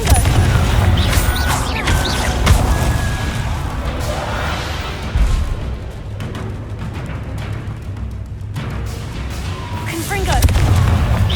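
Confringo explosive fire spell in the Hogwarts Legacy video game, repeated loud booming blasts within dense combat noise, close and sustained, with voices heard amid the fight.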